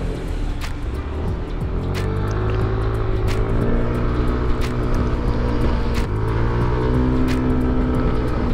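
A Yamaha Xmax125 scooter accelerates on a highway near Paris, its engine climbing in pitch through repeated rising sweeps with brief dips at shifts, loud and close over steady wind rush.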